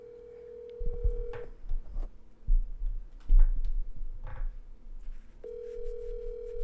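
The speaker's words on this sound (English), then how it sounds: "Let's call his actual phone." A phone call being placed, with a steady ringback tone at the start and again near the end, separated by clicks and bursts of line noise, with no talking.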